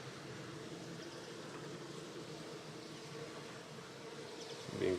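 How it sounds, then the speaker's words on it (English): Honeybees buzzing around a blocked hive entrance, a soft continuous drone of many insects close by, faint and steady with a slight rise near the end. "Now let's give it a minute and watch how many bees pile up."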